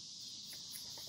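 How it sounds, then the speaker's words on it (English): Cicadas buzz in a steady, high, continuous drone near a Hyundai Kona during a fog light bulb swap, faint and unbroken for a short moment with no talk. "the cicadas aren't stopping for at least another month"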